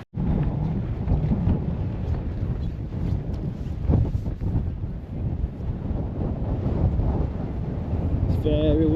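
Strong wind on Arthur's Seat in Edinburgh buffets the microphone with a loud, continuous roaring rumble that surges and eases, and a voice can be heard speaking under it.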